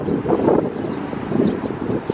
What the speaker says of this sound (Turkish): Rüzgar çıkmış.